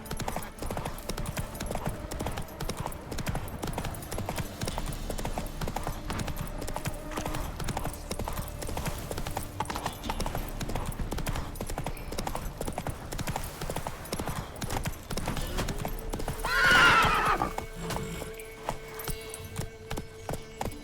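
Horse hoofbeats galloping in The Witcher 3: Wild Hunt, a steady rapid clip-clop rhythm throughout with a brief whoosh near the end, mid-level and unbroken by talk.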